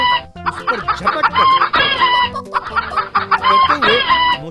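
Fighting rooster clucking and crowing loudly up close in a village, in repeated agitated bursts with brief pauses between them.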